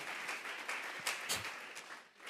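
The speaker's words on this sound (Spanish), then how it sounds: "Vamos a regalarle ofrenda de palmas al Dios de la gloria." A church congregation claps in applause, a quiet, continuous spread of many hands with a few sharper claps standing out, heard from a distance and fading slightly at the end.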